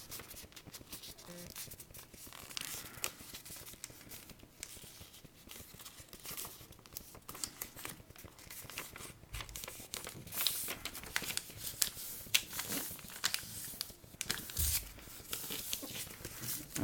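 A sheet of paper folded in half while making a paper airplane: close, intermittent crinkling, rustling and sharp creasing swipes with scattered taps of handling.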